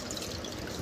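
Water is poured into a jar of herb pulp for panipuri, a steady close splashing pour that runs through the whole short moment without any talking.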